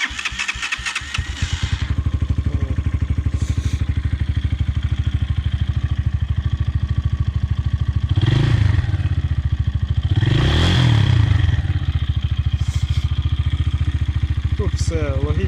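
A Chinese Viper V200P (ZS200-2) 200 cc motorcycle engine cranks, catches and settles into a steady idle, then revs up sharply twice with rising and falling throttle bursts.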